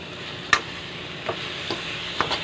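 Garlic and onions sautéing in a pan with a constant low sizzle, broken by a few sharp clicks and scrapes of a utensil against the pan.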